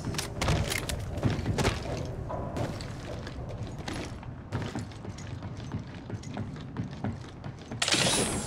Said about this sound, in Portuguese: Recarregando.